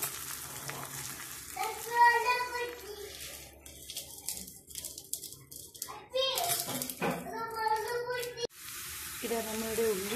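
Onions frying until brown for a chicken curry, with a low sizzle running beneath an adult and someone talking nearby.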